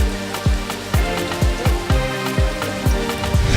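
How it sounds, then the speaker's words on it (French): Rain falling during a hike in the woods, heard as a steady wash of close, dense patter on surfaces. Regular low thumps pulse underneath about twice a second, with no talking. "une invitée imprévue, la pluie,"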